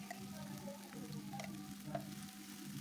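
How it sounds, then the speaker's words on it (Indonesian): Ground chili and shallot paste stir-fried in a pan for sambal, a faint, steady low sizzle with occasional light scraping ticks, continuous and quiet. "Diosreng-osreng sampai mateng"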